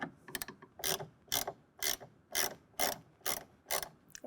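A hand ratchet tightens a well nut bolt on a tonneau cover rail of a 2024 Jeep Gladiator, clicking up close in about nine quick, evenly spaced bursts with short pauses between strokes.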